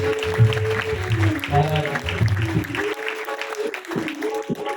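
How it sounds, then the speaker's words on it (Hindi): Audience at a Shiv Mahapuran katha in a Siddh Baba Balaknath temple claps loudly, a steady wash of applause over sustained music tones that thins out toward the end. "भाई के लिए जोरदार तालियां।"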